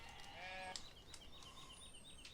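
Sheep bleating in Farming Simulator 17 on the Springfield Estate map, heard as a short wavering bleat early on followed by faint repeated high calls over low ambient farm noise.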